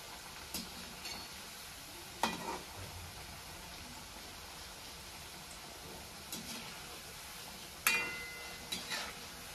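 Maida shankarpali dough pieces frying in oil, a quiet continuous sizzle broken by a few sharp clicks and scraping knocks as pieces are dropped in and moved around.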